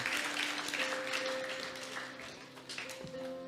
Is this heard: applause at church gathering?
yes